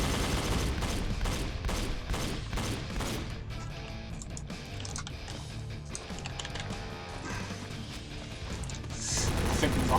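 Gunfire in the Wii game Top Shot: Dinosaur Hunter, a run of rapid loud shots at the start followed by scattered blasts and crashes over a dense, busy game soundscape.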